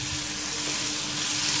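Pounded onion and chili paste hitting hot oil in a pan with curry leaves, giving a steady, close hiss that holds even for the whole short moment, with no talking over it.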